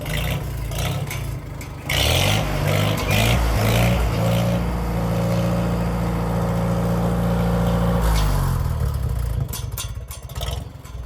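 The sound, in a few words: 1957 Farmall tractor engine running at idle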